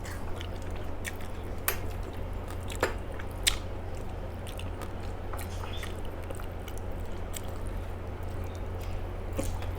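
Chewing and biting sounds from someone eating rice with fried katla fish, soft and close, with a few sharper crunches above a steady low background hum and no speech.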